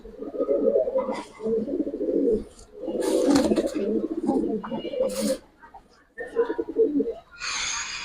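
Domestic pigeons, including Giribaz colouring birds, coo in loud throaty bursts close by, with short pauses between phrases and a brief human voice mixed in.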